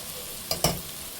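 Spice paste for a shorputi fish curry fries in oil in a pan, a steady soft sizzle marked by two brief louder stirring scrapes near the middle.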